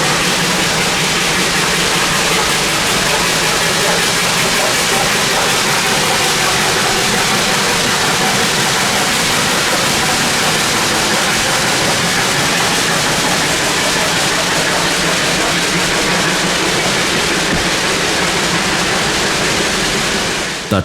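Steam locomotive 1702, the Great Smoky Mountains Railroad engine, hauls its train uphill on wet rail, a loud steady roaring rush of exhaust and running noise that holds unbroken throughout.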